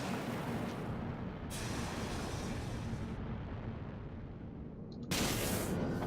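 Attack cruiser destroyed in the Dreadnought space combat game, heard as a sustained loud rumbling explosion with a broad roar that swells again near the end, with no talking over it.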